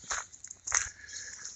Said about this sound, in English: there's a little crunch to where I'm walking in the driveway on the hard back